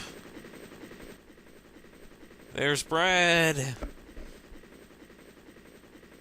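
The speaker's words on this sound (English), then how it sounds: "I guess the helicopter's coming" A helicopter arrives in the Resident Evil DS video game, its rotor drone holding steady the whole time while a character's brief shout rises over it midway.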